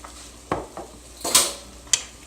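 A spoon clanks and scrapes in a pan while stirring a stuffed green plantain mixture seasoned with chili powder and pink salt, several distinct metallic taps and scrapes, close and fairly loud.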